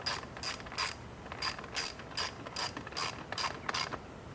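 A ratchet snugs down safety cable fasteners on a Troy-Bilt machine, a close, quiet run of about ten quick clicking strokes in a steady rhythm.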